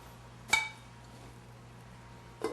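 A lid is set over vegetables sautéing in a pan, making two faint, brief metallic clinks about two seconds apart over a quiet low hum.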